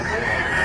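A white hatch rooster at a fowl seller's in Tabunok, Talisay, Cebu gives a brief, loud crow fragment, heard up close and cut off quickly.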